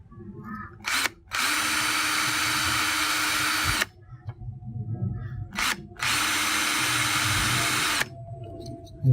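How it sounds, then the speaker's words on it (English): A power drill bores weight holes into a crankbait lure body in two long, steady whining bursts of about three seconds each, separated by brief pauses and light handling noises. "what I'm going to do is go ahead and drill the weight holes."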